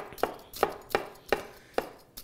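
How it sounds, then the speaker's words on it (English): Knife thin-slicing onions on a cutting board, six crisp evenly spaced chops close up, with quiet gaps between cuts. "we're gonna thin slice these onions"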